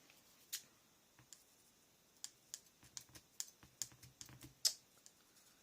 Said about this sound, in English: No, I've got not one pair of scissors that likes cutting ribbon.